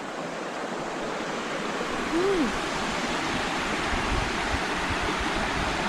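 Clear river water flows beneath a bridge at the Sungai Jax riverside campsite in Kuala Mu, a fish sanctuary area, giving a steady, close rushing wash with no voices.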